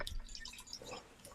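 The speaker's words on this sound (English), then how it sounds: "let me go ahead and start pouring" A drink that looks like grapefruit juice is poured over ice, giving a faint, steady trickle with soft splashing and dripping throughout.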